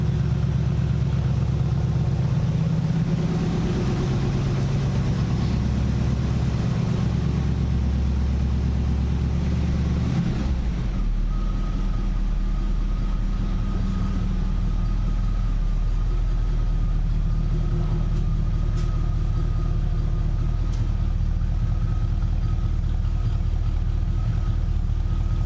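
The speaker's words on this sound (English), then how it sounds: "I ain't revving up a cold engine." A cold car engine idles roughly on choke, a steady low rumble heard up close; it runs alone with no speech over it, and the tone shifts partway through as the idle settles.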